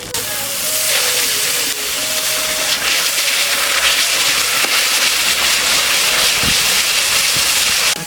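Tomatoes hit hot oil already frying green chillies and ginger paste for a mixed vegetable dal, giving a loud, steady sizzle and hiss that fills the whole stretch without pause.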